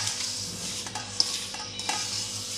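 Masala and flour being stirred and mixed in a bowl for a stuffed havijiyo rotlo, a soft steady scraping and rustling with a few small clinks of the spoon, close and continuous with no talking.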